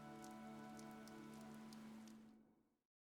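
Heavy rain pours steadily in Fire Emblem Three Houses, a dense continuous hiss with a low tonal musical drone underneath, fading out near the end.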